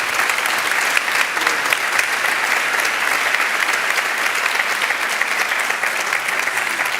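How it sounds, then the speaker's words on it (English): Dense, loud applause fills a hall at the DW Freedom of Speech Award ceremony in Bonn, a continuous wash of clapping from a sizeable audience with no speech over it. "And a big applause, please, for Peter Limburg."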